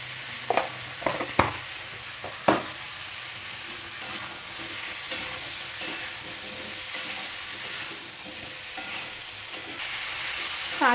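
Vegetables seasoned with turmeric and salt being stirred in a pan, a steady soft sizzle broken by occasional scraping and clacking strokes of the spoon, moderately quiet and close, with no talking.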